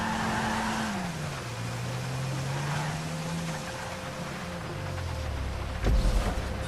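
A truck in Grand Theft Auto 5 pulls away, its engine droning low and shifting pitch as it drives off. A sharp thump lands near the end.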